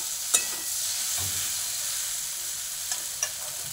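Boiled potatoes fry in a pan while being pressed down, a steady soft sizzle with a few sharp clicks and taps from the utensil pushing on them.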